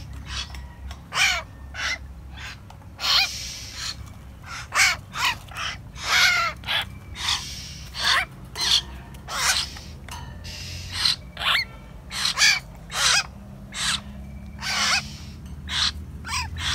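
Young hill myna birds calling from close by, a steady series of harsh, rasping squawks repeating every second or so over a low background hum, with no talking.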